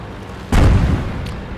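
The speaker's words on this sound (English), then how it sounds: "Another arty shot misses me" A single loud, booming artillery shell explosion lands nearby in the World of Tanks video game, with an abrupt onset, a rumbling decay and a faint later thump.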